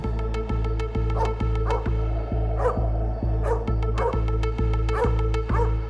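A dog barks and whimpers in short, repeated yips over a steady low hum, fairly loud and continuous, with no one speaking.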